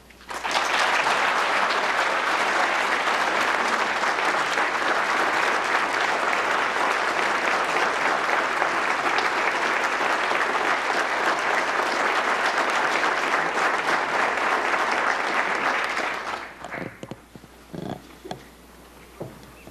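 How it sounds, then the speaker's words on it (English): A large audience at a formal event in Washington gives dense, sustained applause to welcome the President of South Korea. The clapping stays loud and steady for about sixteen seconds, then fades out quickly into a few scattered claps. "So with your applause, would you please welcome and congratulate the President of the Republic of Korea, Park Geun-hye."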